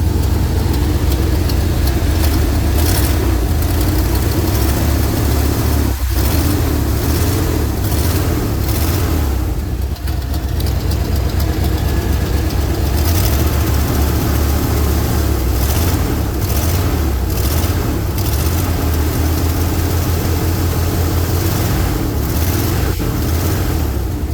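A 1994 Chevy Blazer K5 with a suspected blown head gasket or intake manifold fault, engine running steadily with a loud continuous low rumble, close by and alone for the whole stretch.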